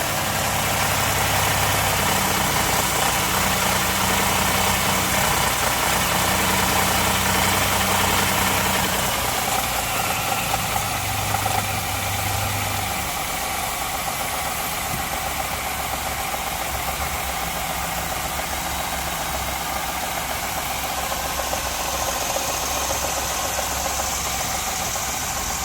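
A car engine idles steadily and close by, with a persistent high-pitched whine and rattle from noisy tensioners running alongside the low rumble for the whole stretch.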